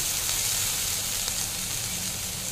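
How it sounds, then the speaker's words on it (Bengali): Garlic and green chilli hitting hot oil in a pan, cooked for honey garlic chicken: a dense, continuous sizzle close by, steady and fairly loud, with no voices. "তেলটা কমিয়ে নিয়ে ওই একই তেলে আমি প্রথমেই দিয়ে দেবো রসুনটা। রসুনের সাথে সাথে আমি লঙ্কাটাও দিয়ে দেবো।"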